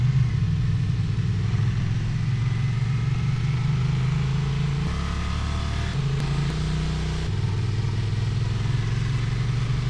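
A Honda Transalp XL750 geared motorcycle climbing the road up Genting, its engine droning steadily and loudly up close with a low hum, shifting pitch briefly mid-ride as gears or throttle change, wind noise mixed in.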